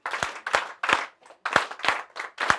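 Audience at a kids' talent show clapping in short, evenly spaced bursts, about seven sharp rounds of several hands clapping together, fairly close, with no talk over it.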